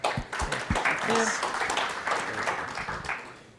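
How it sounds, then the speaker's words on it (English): Audience applause for two presenters from Avi Networks at a tech conference session, a steady wash of clapping over about three and a half seconds with voices mixed in. "So let's give them a round of applause."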